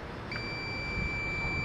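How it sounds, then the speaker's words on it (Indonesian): A steady high-pitched continuity buzzer from a multimeter probing an Asus A43S laptop motherboard starts shortly in and holds as one unbroken tone over a faint background hiss. "Coba kita ukur menggunakan buzzer saja."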